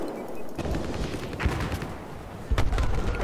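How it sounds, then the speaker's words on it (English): Rapid bursts of automatic gunfire in Battlefield 4 on the Siege of Shanghai map, near a car dealership, firing sustained and dense with a louder burst toward the end, no talk. "I see him shooting into the car dealership"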